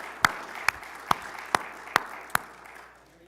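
Sparse clapping for a brother at a church gathering, six separate sharp claps at an even pace that fade toward the end, fairly near and without talk.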